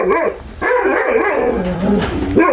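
Kangal dogs bark repeatedly in loud, close bursts, with a few yips and whimpers mixed in between the barks.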